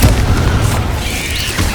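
Confringo spell explosions in the Hogwarts Legacy video game, a dense, booming blast with a low rumbling tail that stays loud through the short stretch, with no speech.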